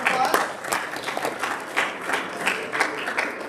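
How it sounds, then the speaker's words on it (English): Applause from an audience at a high school assembly, a steady wash of many hands clapping at moderate volume with no voices over it. "round of applause"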